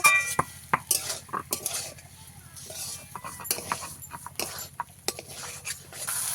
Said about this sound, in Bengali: এবারে দিয়ে দেবো ভেজে রাখা আলু গাজর আর এই ডাঁটাটা দিয়ে ভালো করে মিশিয়ে নেব